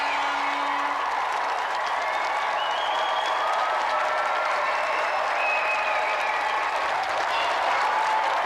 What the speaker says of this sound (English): let's have a round of applause for our gallant challenger, Doug Jones